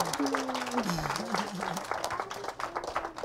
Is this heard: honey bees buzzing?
no